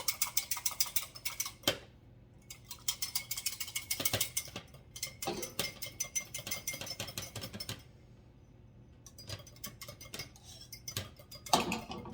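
A utensil whisks and scrapes rapidly against a bowl while an egg is tempered for a coconut cream cake, producing fast clinking bursts broken by short pauses, close and alone with no talking.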